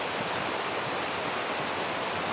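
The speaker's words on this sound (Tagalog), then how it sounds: "Umuulan." Steady rain falls in a dense, unbroken hiss that stays even in loudness throughout.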